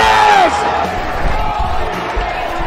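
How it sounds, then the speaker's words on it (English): A loud crowd at a Sunday brunch wrestling show cheers and yells steadily throughout, with a whoop or shout near the start rising above the roar. "This crowd is going bananas!"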